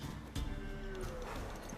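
Hooves of a mare in The Witcher 3 clip-clop in a few quick close steps, a sharp strike standing out early, with a voice speaking faintly underneath.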